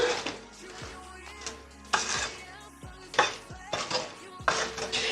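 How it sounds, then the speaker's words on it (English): Spoon clattering in a bowl as nuts are mixed into carrot cake batter, a few loud knocks and scrapes spaced irregularly, close up with no talking. "now I'm going to add the nuts, and I'm going to mix that in"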